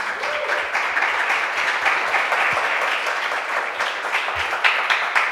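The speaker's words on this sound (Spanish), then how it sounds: "Un aplauso para nuestras 4 invitadas" An audience at a panel discussion claps and applauds steadily, a dense, loud wash of clapping that holds for several seconds.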